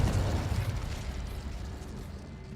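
Incendio and Confringo spell blasts in the game Hogwarts Legacy, a loud, deep fiery burst with rumbling low end that slowly fades over a couple of seconds.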